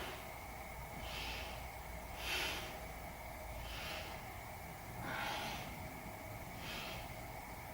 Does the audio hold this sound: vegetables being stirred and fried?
no